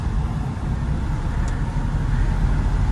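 A driving school car pulls away and works through its gears, its engine a low, steady rumble that holds close and fairly loud the whole time, with no break in the drone.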